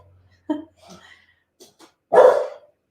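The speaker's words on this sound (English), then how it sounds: "Pucky's barking again" A dog at home gives a few sharp barks, with a single loud bark near the end, close and clear over near silence, with faint softer yips between.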